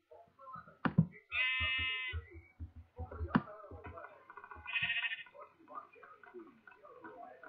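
Sheep in the video game Minecraft give a few short, separated bleats amid game sound effects, with a voice talking quietly in between.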